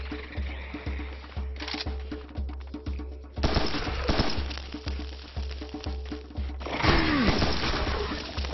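Assault rifle fire in the shooter Serious Sam 3 BFE crackles in rapid repeated bursts over a low, pulsing in-game background, with heavier volleys in the middle and toward the end.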